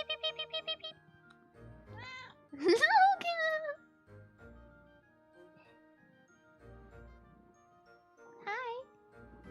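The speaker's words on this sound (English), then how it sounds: "That's a cat." A pet cat gives a few short meows indoors among bright jingly tinkles, while someone speaks to it in a high, cooing voice.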